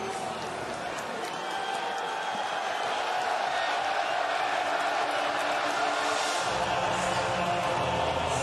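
An arena crowd at a UFC event cheers and roars as fighters Benoit Saint Denis and Mauricio Ruffy make their walkouts, a steady, dense wall of distant crowd noise that swells slightly partway through.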